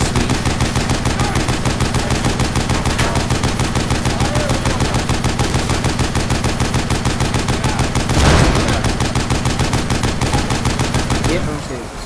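Automatic turret in the Hunt Down the Freeman video game, firing a loud, rapid, perfectly regular stream of shots that runs almost nonstop for twelve seconds, with a brief heavier burst near the end.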